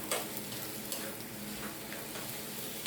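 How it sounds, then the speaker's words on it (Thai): Wide rice noodles are stir-fried over high heat with egg in a pan for pad see ew, a faint, even sizzle with occasional light clicks of the spatula throughout. "อ่าเสร็จแล้วก็ผัดสักนิดนึง ให้เส้นเริ่มสุกก่อนครับ"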